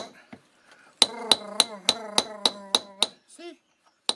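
Hand-tool hammering on stone while shaping a Viking Age-style quern-stone from Norway: eight sharp, ringing metallic strikes in a steady rhythm, close and loud, with a faint vocal sound near the end.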